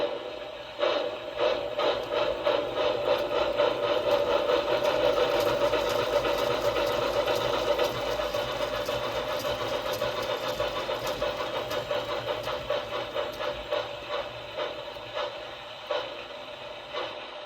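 The soundboard of a 3rd Rail High Iron K4 #1361 model steam locomotive gives a rapid, even chuffing pulse over a mechanical hum, fairly loud and close, holding a steady rhythm throughout.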